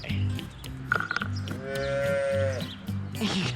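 A dairy cow gives a long, loud, close moo in the middle, with other cattle lowing around it and a steady hum of farm noise underneath.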